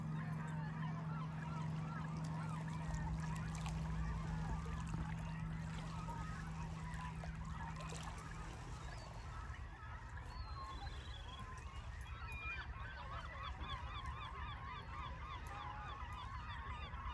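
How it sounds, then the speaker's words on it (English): Geese honk repeatedly out by the rocks at a hidden New Brunswick beach, a steady chorus of calls at middle distance over constant outdoor background noise, with faint talk. "Listening to the birds."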